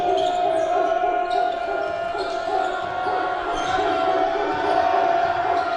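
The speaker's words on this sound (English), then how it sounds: "You can hear the Kearney cheering section over there" Kearney cheering section crowd at a high school basketball game against Platte County, a steady, loud gym roar of voices filling the whole clip, with faint ball bounces and squeaks beneath it.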